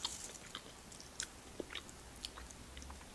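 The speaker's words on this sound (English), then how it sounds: "Hear that little crunch and crispiness from them." Crunchy cheesy kale chips are chewed close up, with irregular crisp crunches and small bites standing out over a quiet background, and no talking.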